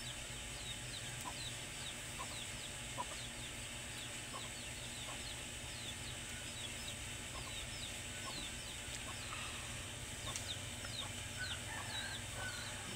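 Young hens cluck in short, scattered calls on a goat farm, faint and somewhat distant over a steady background hiss, with no one speaking.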